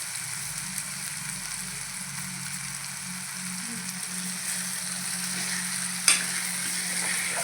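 Raw potato curry simmers in a pan with a soft, steady sizzle and faint bubbling, close but quiet, broken once by a brief clink near the end.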